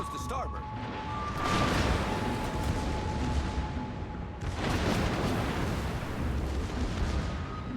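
Heavy booming salvos from a tier 8 Massachusetts battleship's main guns in World of Warships, two broad roaring blasts each trailing into a long rumbling wash, loud and close with voices over the game sound.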